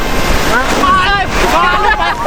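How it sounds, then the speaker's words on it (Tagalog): Strong sea waves surge and wash at a beach in Japan, loud and close, with heavy wind rumble buffeting the microphone throughout. "Sobrang lakas ng alon ngayon."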